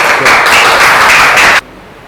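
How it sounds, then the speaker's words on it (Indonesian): A short, loud burst of applause in a classroom for a presenting group during an Islamic education teacher-training assessment, with steady clapping that stops abruptly. "kita beri aplaus yang meriah untuk kelompok"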